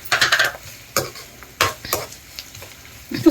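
Poppy seeds with coarse rock salt fry and get stirred in a pan, with several sharp scraping strokes over a low sizzle, spaced irregularly and fairly close, with no talking.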